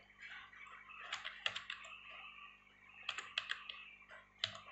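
Close keystrokes on a computer keyboard come in two short bursts of quick clicks over a steady low hum, with no talking.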